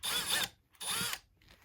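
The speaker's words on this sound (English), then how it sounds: "take a drill bit, find kind of the elbow, and there'll be the joint there, and just slowly drill into that" A small drill whirs in two short bursts with a brief pause between, drilling slowly into the elbow joint of a pheasant wing bone, close up and fairly quiet, followed by a faint rustle.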